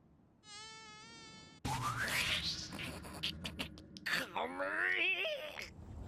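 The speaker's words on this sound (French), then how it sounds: "Dégage le moustique." A thin, high mosquito whine drones close by at first, then is swamped by loud rushing noise and a wailing, whining tone.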